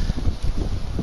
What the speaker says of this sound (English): Kind of windy out here today